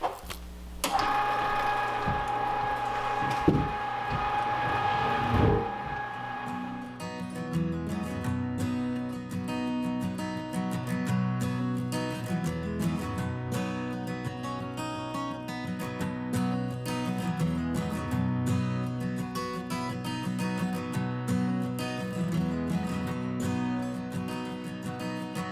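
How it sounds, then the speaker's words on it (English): A meat grinder works chunks of home-raised pork for sausage, its motor whirring with a busy, rhythmic mechanical clatter. After an initial louder burst it settles into a steady churn. "because of this meat grinder and how good it works, we're able to leave our chunks nice and big"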